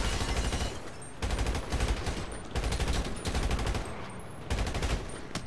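Automatic gunfire in a GTA 5 police shootout, fired in four separate sustained bursts of rapid shots with short pauses between, loud and close.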